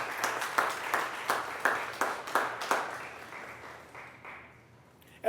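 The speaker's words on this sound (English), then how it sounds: "Can we give them a hand this morning?" A school assembly audience applauds in a steady burst of rhythmic clapping that gradually fades away over several seconds.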